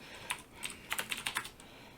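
Computer keyboard typing heard up close as a brisk run of about eight to ten crisp key clicks in uneven rhythm, then quiet, with no talking.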